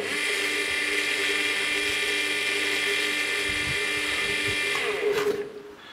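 A Vodoley BTsPE 0.5-50U water pump motor with capacitor, running on a bench during repair, a steady high-pitched electric whine that holds evenly before winding down at the end, with a few faint handling clicks.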